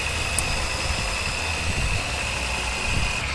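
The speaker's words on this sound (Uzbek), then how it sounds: "Motorlar qaltirab ishlayapti." A Chevrolet Tracker 2 or Kia Sonet engine idles unevenly and shakes, a steady low rumble with slight wavering pulses and a faint high whine, close and continuous.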